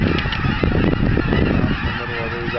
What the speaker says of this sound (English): there's two little Ross geese I seen the other day when I drove by